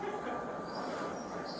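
Train rumbling at an airport, a continuous rolling rail noise with wheel hiss and faint squeal, close and steady throughout.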